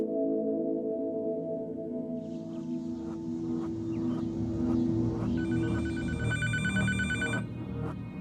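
A telephone bell rings repeatedly in a steady pattern, the rings fairly loud over a droning background, with no talking.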